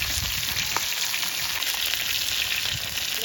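Fish sizzles steadily in hot oil in a pan during home cooking of katla and mola fish, a continuous close crackling hiss with no talking.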